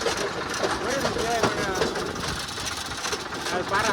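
An oncoming tractor engine on a village road rumbles and chugs steadily at close range, with people talking over the continuous mechanical drone.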